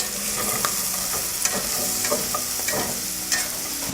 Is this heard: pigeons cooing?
no